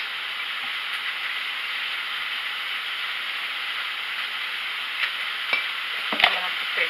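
Egg rolls fry in hot oil with a constant bright sizzle and hiss, close and steady, with a few faint pops and clicks near the end.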